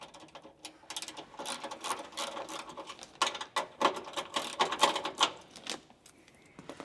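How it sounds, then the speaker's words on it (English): Ratcheting clicks from a socket wrench loosening two nuts on a Landcruiser barndoor table, bursts of quick metallic ticks in several runs with short pauses between them, close and fairly quiet. "we want to just undo these 2 nuts here"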